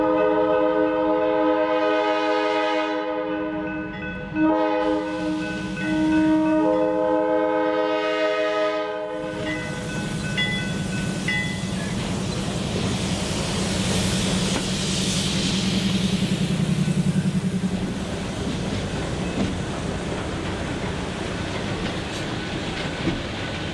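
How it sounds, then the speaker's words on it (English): Freight train on the Nashville & Eastern Railroad switching railcars at a transload spur, opening with a loud multi-note horn blast in several bursts, then a long rumble of moving cars with rolling wheel noise. "We watched as the three-man crew worked to switch the transload site, first grabbing the empties before shoving the inbound loads into the transload spur."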